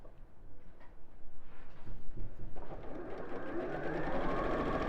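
A home sewing machine stitches a seam with a quarter-inch allowance, its motor whirring in a steady rapid rhythm that grows louder and more continuous toward the end.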